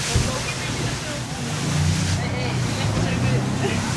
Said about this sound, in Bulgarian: напред вълните сякаш стават по-лоши